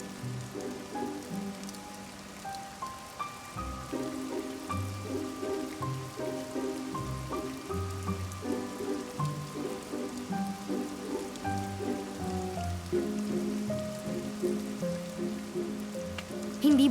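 Steady rain patters on a surface throughout, a soft continuous wash beneath a quiet scene with low tonal music playing alongside.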